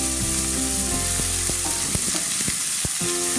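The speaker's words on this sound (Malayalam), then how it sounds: "ഇതും കൂടി ഇട്ടിട്ട് നമുക്ക് നന്നായിട്ടൊന്ന് വഴറ്റാം." Chopped onions sizzle loudly in hot oil in a pan, a dense close frying hiss broken by a few sharp clicks of a spoon stirring against the pan.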